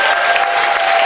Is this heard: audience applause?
yes